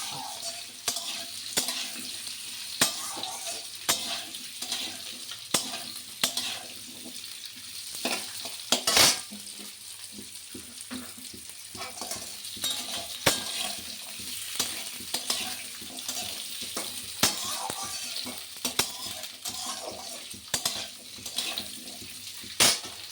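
Radishes and potatoes fry in a pan for a Bengali spinach ghonto while a utensil stirs them, giving a steady sizzle broken by repeated scraping clicks and knocks at an uneven pace throughout.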